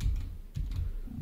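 Keys pressed on a YASK steno keyboard, a handful of soft, muffled chord strokes in an uneven rhythm, close and quiet.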